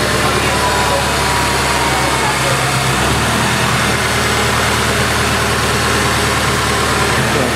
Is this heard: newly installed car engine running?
yes